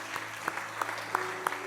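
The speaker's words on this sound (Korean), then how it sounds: "우리 저 영화실에 있는 우리 아가들을 위해서도 축복의 박수 한번 합시다." A church congregation applauds during a Sunday worship service, a brief, steady patter of many hands with soft rhythmic accents throughout.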